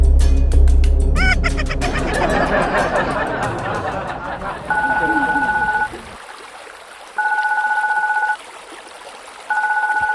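An electronic phone ring sounds in three evenly spaced bursts of trilling tone, following a stretch of busy noise and chatter.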